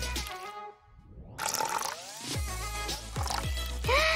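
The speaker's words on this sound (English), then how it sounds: "Let's water our garden properly, like this." Water is poured and drips onto a toy doll garden as bubbly liquid splashes and gurgles. Several descending, squeaky watery tones follow close by, with no speech.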